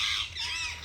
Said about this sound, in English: You can see parrot.